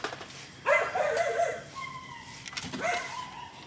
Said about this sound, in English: I think that sounds like zombie dogs.